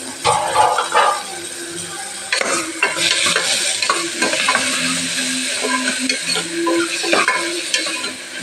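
Ground tomato sizzling in a pan, a loud close frying hiss with scraping stirs and clatter. A voice or bark-like sound briefly breaks through in places.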